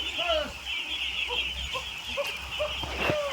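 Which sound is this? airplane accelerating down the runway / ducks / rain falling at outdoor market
ducks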